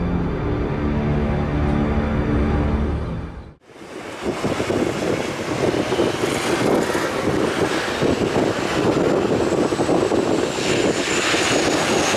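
A low-flying airplane roars very close overhead, a dense, loud engine wash that swells and persists after an abrupt cut from a steadier droning passage.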